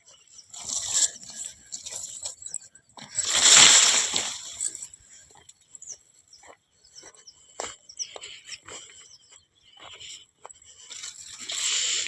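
Irrigation water flows through a channel into a farm field, making uneven splashing and sloshing bursts, one louder surge near the start, with insects chirping around it and faint voices at times.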